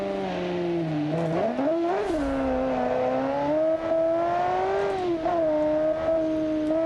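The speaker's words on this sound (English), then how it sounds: "It sounds amazing though. Twin turbo V8." A deep, throaty 6.2-litre twin-turbo V8 car engine in a driving game revs and holds a steady drone, pitch dipping and rising with the throttle, loud and continuous.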